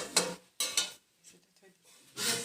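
Tomatoes stirred in a cooking pan with a few close scraping, clattering strokes of a utensil against the metal, separated by short pauses.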